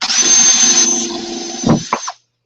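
A power drill boring into scrap PVC pipe, a steady high whine that slows and fades, followed by a couple of short clunks as it stops.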